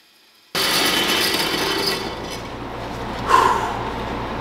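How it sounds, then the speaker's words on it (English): A bandsaw cuts steadily through 3/8 inch stainless steel plate. It starts abruptly as a loud, continuous rasping whine close by and briefly swells near the end with no voices. "That was probably like 6 or 7 minutes of just pure bandsaw cutting."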